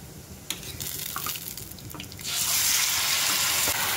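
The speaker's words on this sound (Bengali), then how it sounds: "এই ছেঁচে রাখা রসুনটা দিয়ে দিলাম। রসুনটা ভাজা হয়ে একটা সুন্দর গন্ধ বেরোচ্ছে।" Crushed garlic dropped into hot oil while cooking a Bengali green banana peel paste dish, starting as a faint crackle and swelling after about two seconds into a steady, loud hiss of frying that continues to the end.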